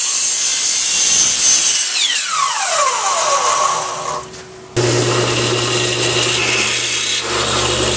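A saw cuts through excess panel material on a DIY road case for a photo booth, producing a loud, continuous rasping cut that dips briefly, then resumes with a steady power-tool drone.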